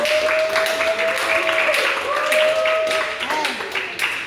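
An audience applauds a participant at a local-wisdom-based speech competition, with steady, fairly loud clapping filling the room for several seconds while a tonal sound and voices mix in underneath.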